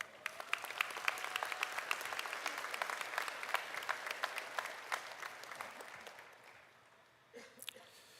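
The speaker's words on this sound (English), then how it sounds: "I believe that deserves a round of applause" Audience at a 2023 commencement ceremony applauds graduates, a sustained wash of clapping with crisp individual claps standing out, gradually fading before a brief final burst.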